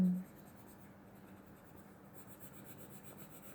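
Soft, steady scratchy rubbing of a pencil shading across paper, close up and quiet, with no talking.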